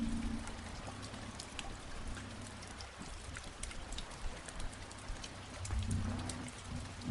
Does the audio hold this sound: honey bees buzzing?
no